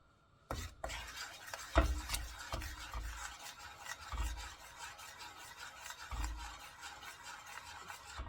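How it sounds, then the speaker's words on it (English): A spoon stirs coconut frosting in a pot on a stove at medium-low heat, making repeated scraping and rubbing sounds against the pot bottom with occasional soft knocks, close and steady throughout. "you want to frequently stir this until it thickens"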